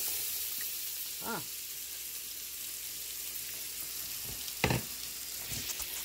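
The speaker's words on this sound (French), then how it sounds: "les légumes dans le roux qui est très chaud, ça va, ça va steamer" Vegetables dropped into a very hot roux for gumbo, a steady sizzle and fry close by with a few stirring scrapes and clinks; a brief voice exclaims once.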